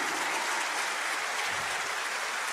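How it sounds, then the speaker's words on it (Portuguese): Congregation in a church applauding: dense, continuous clapping from many hands, even and sustained, with no speech over it. "Se for para aplaudir, aplauda mais forte."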